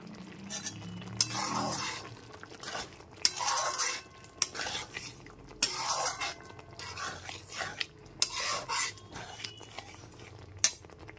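Ridge gourd, sugar and slit green chillies being stirred together in a pan for a vegetarian poppy-seed dish: a utensil scrapes and clinks against the metal in repeated bursts, with a faint sizzle underneath, close and fairly loud.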